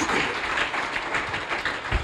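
Church congregation applauding during a sermon, a dense, steady wash of clapping from many hands filling the room.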